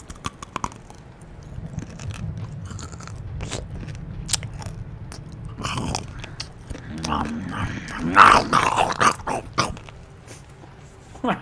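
A dog crunches and chews pieces of crispy cooked bacon up close, with wet bites, scraping and crackling chomps, while a person talks intermittently nearby.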